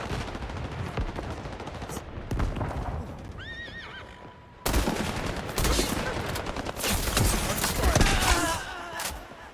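In the video game Highguard, a horse neighs and whinnies amid game sounds, with hoof clip-clop and bursts of gunfire loud and close, and a player's voice occasionally heard over the action.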